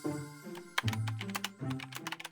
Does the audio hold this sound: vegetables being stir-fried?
no